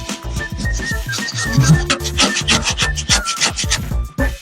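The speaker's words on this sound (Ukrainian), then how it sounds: "Беремо чорочку і натираємо її картоплю, як на картопляники." Raw potatoes rubbed on a hand grater for potato dumplings in a home kitchen, a quick, close, continuous rasping rhythm of short strokes with faint background clatter.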